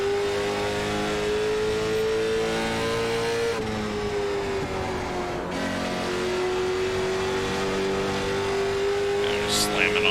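A race car in the iRacing sim at Kern Raceway screams at steady high revs, easing off briefly mid-clip before the throttle is floored again, loud and continuous.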